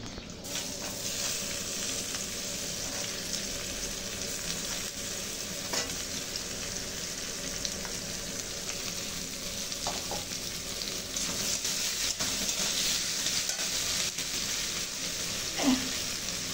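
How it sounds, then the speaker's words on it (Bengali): Sliced onions hit hot oil with bay leaves and whole garam masala, setting off a loud, steady sizzle with occasional stirring scrapes, continuous throughout and nobody talking. "দুটো তেজপাতা ফোড়ন দিয়ে এবার পেঁয়াজগুলো দিয়ে দিই।"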